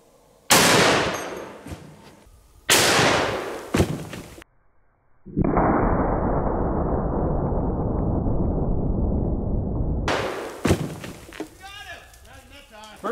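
Rifle shots fired at a target wearing a CrossFit weight vest, with several sharp, loud outdoor reports and echoes, a few seconds of steady noise between them, and people talking around the shots.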